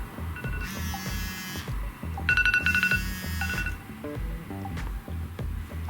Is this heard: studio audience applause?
no